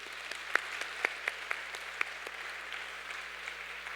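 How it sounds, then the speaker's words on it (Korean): A church congregation at a Hawaii United Methodist Sunday service gives faint, scattered handclaps, a thin and sparse patter heard from a distance. "박수 한번 할까요, 우리 교회?"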